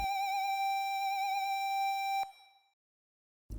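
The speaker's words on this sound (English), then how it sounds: "Then I simply switched its oscillators to use a square wave instead. So now this is what it sounds like." A synth voice with vibrato and square-wave oscillators holds one bright, buzzy tone with a gentle wavering pitch for about two seconds, then cuts off with a click and a short fading tail, followed by silence and another click.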